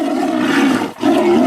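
A tiger gives two deep, loud, sustained roars close by, with a brief pause between them.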